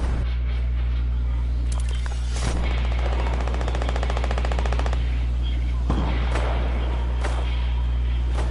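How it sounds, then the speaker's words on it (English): Fortnite video game gunfire crackles in rapid automatic bursts, with a long sustained volley in the middle and sharper single shots around it, loud over a constant game hum. "No, for real, Ed shot me"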